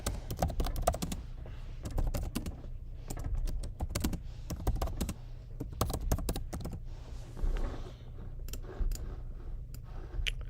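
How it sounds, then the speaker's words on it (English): Rapid, irregular clicking of a computer keyboard during day trading, close keystrokes in bursts over a faint steady background hum, no talking. "I'm gonna type it."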